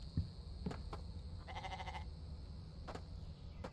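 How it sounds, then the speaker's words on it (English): Goats bleat faintly in a farm area in The Infected survival game, with a few short calls including a quick stuttering bleat over steady low background ambience. "Oh, there's 2 goats over here."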